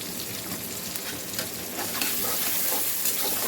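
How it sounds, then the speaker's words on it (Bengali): Three mango pieces sizzling with onions in a hot pan for a mango chicken dish, dense frying crackle that swells a little midway as the mix is stirred, close and continuous with no talk. "আমি পেঁয়াজের সাথে দিয়ে দিলাম 3 পিস আম।"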